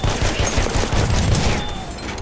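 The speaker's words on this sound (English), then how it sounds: "Enemy machine gun over there!" An enemy machine gun fires in a Battlefield 1 multiplayer Conquest match. It is a steady, rapid rattle of gunfire, a dense continuous burst throughout with no voices.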